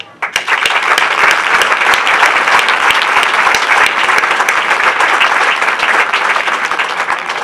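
Loud, dense applause from the crowd at a Día del Jubilado event and the inauguration of a day centre during the San Miguel fiestas, filling the whole span close and steady after a brief quiet start.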